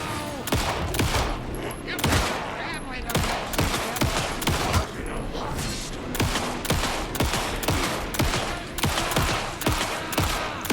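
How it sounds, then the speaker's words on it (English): Rapid, sustained gunfire crackles nonstop in the video game Alan Wake 2, with bursts of automatic fire and sharp individual shots in a loud, continuous barrage. "Anderson, pin him down with gunfire for me to get the light on him."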